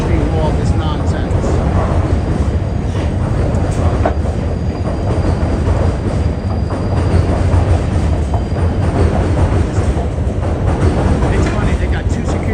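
A New York subway E train rumbles past loudly and continuously at close range, with wheels clattering and squealing on the rails and a voice faintly audible under the roar.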